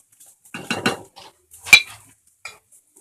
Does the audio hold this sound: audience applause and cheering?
no